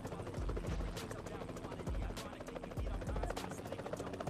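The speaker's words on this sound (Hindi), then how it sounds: "तो यहाँ पर से मैंने हेलीकॉप्टर को आराम से लैंडिंग कर दिया" Helicopter landing in PUBG Mobile Lite: a loud, steady rotor roar with rhythmic low thumps repeating about once a second, close and continuous throughout.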